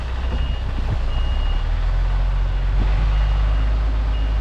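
A truck's reversing alarm beeps steadily in a regular rhythm over a low, rumbling idling engine, close and continuous with no talk.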